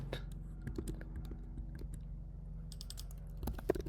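Keys on a computer keyboard clack in quick, irregular bursts at close range, with brief pauses between runs of typing and no talking over them.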